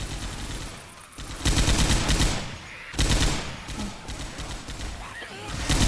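Rapid machine gun fire in the Left 4 Dead 2 video game during heavy rain, loud sustained bursts broken by short pauses, with game sounds and effects layered around them.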